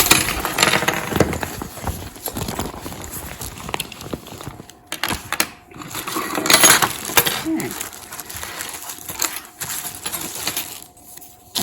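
Knitting tools tumble out of a pencil-case pouch with a jumble of clinks, rattles and light crinkling, arriving in uneven bursts as the items spill and shift close by.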